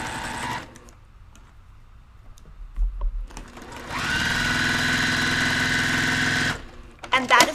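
Sewing machine stitching quilt blocks along a marked line, running at full speed in a steady loud whirring burst of about two and a half seconds, with quieter handling sounds before it and a brief voice near the end.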